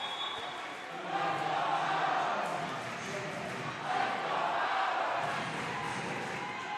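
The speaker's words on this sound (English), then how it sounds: "The Howard crowd coming alive." The Howard crowd at a high school volleyball state final cheers and roars in a broad, swelling wash of noise, while an announcer talks over it.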